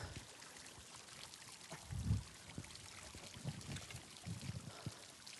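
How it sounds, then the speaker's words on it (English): Water fountain trickling and splashing faintly and steadily, with a few louder gurgling pours rising now and then. "It is a fountain."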